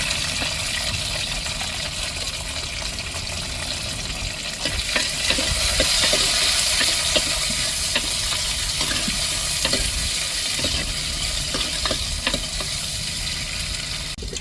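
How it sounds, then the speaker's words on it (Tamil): Tomatoes and chillies sauté in tempering oil for a dried sardine curry, giving a steady, close sizzle broken by scraping stirs that run the whole time, with no voices. "தக்காளி மிளகாயை வதக்கிக்கிடுவோம் தாளிப்பில்"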